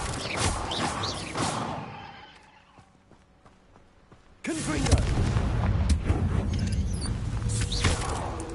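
Confringo fire spell in the video game Hogwarts Legacy: a loud burst of explosive booms and crackling fire, a quieter lull, then a second heavy blast that sustains as a dense rumbling roar.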